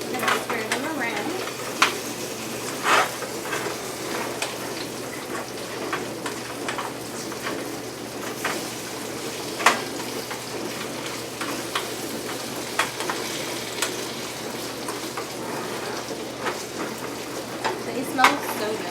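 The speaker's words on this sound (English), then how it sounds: "I'm going to take a spoon. And stir them around" A spoon stirs potatoes frying in a pan, making continuous scraping and clinking over a low sizzle that carries on steadily throughout.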